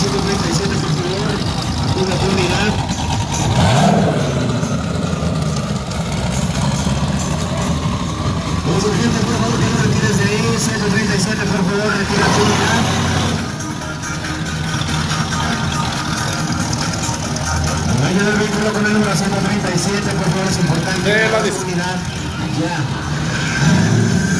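A turbocharged eight-cylinder drag racing car roars continuously at a drag strip, a loud, sustained engine rumble with rising passes, while a voice talks throughout.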